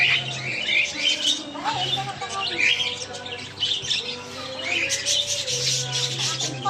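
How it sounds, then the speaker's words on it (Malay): Small birds in an animal park chirp, tweet and squawk continuously in a busy, close chorus, with faint human voices in the background. "Burung kecil-kecil."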